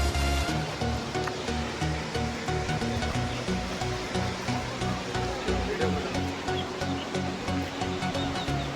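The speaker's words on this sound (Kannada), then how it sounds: "ಜೋಗ್ ಫಾಲ್ಸ್ ಅಲ್ಲ, ಇದು ಫಾಲ್ಸು" A small waterfall near Sakleshpur, running with little water, makes a steady rushing roar that fills the whole scene with unbroken noise.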